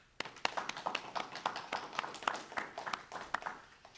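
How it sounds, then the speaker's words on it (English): An audience applauds at an agricultural hall of fame ceremony, a round of sharp, irregular claps from a modest crowd, fairly distant and quiet, continuing for about four seconds. "I think we should give him another round of applause."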